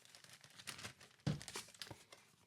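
Soft crinkling and rustling of a Ziploc bag being filled with florals close by, with one sharper crackle midway.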